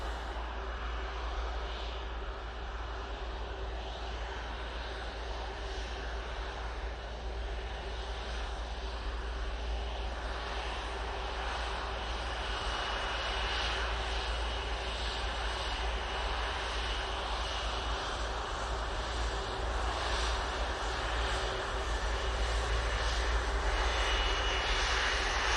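Jet airliner taking off from Manchester Airport bound for Palma de Mallorca, a sustained deep engine roar with a faint steady whine that grows a little louder toward the end, no one talking.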